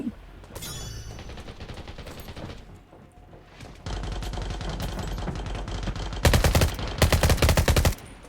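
Heavy automatic gunfire in the video game Undawn, with long sustained bursts of loud, rapid shots, the loudest close volleys near the end.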